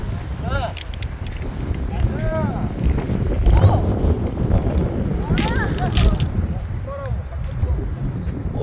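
Wind gusts buffet the microphone on a golf course at Everis CC in Jeju, a low rumbling roar that swells and fades while people talk over it and birds chirp intermittently.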